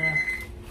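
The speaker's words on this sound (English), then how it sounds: "Timer here." Kitchen timer on a steak grill setup giving a short high electronic beep, broken into two brief tones, over low background noise.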